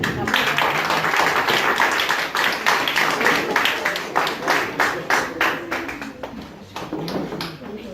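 At a campground hypnosis show, the audience claps for a volunteer in dense, loud applause that thins into scattered claps toward the end, with some voices mixed in.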